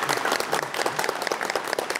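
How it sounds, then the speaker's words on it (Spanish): A studio audience at a Mirtha Legrand television show claps loudly and continuously, with dense overlapping hand claps and a little crowd murmur. "Un aplauso para"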